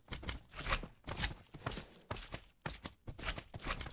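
Minecraft horse hooves clip-clop in a quick, even rhythm throughout, close and fairly loud with no talking over them.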